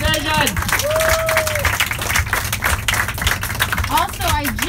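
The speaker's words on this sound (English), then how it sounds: "Give yourselves a round of applause." Audience applause fills the stretch, a dense steady patter of clapping with crowd noise, while a voice talks over it at the start and again near the end.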